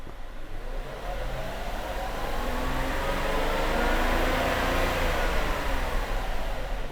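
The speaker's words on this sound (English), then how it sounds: "But what will happen when I rev it?" A V12 car engine revs up from a steady idle, a broad, smooth rising roar that swells and holds loud through the middle before easing slightly, with no talk over it.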